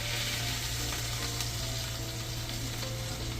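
Marinated chicken pieces sizzling in a pan over a medium-high flame, a steady loud frying hiss with faint crackles and a low hum beneath, no voices.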